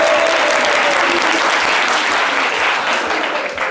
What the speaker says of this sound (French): Hé, les gars, applaudissez pour lui